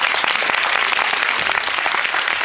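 Loud sustained applause from an audience for the host of a Miss Poitou-Charentes preselection event in Parthenay, a thick continuous roar of many clapping hands.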